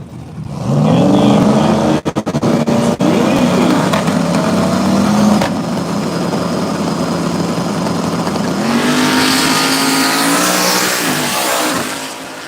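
A 1995 Ford Mustang race car at a drag strip, loud and near, its engine droning and revving hard, with sharp cracks early and a rising second surge of power, under faint announcer talk.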